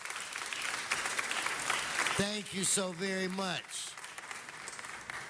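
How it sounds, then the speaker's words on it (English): Audience applauding at a city council meeting, a brief steady patter of clapping in a hall while someone speaks briefly over it. "Let's give him a round of applause first."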